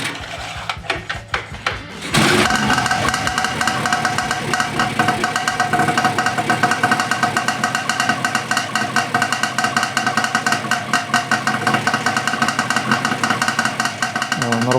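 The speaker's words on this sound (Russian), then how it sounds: "Прокачал топливную систему, и буквально со второго раза он вообще без проблем завелся." RMZ-500 engine on an E-12NK ultralight aircraft starting up and then running at a steady, loud idle buzz that continues without a break after a brief quiet stretch.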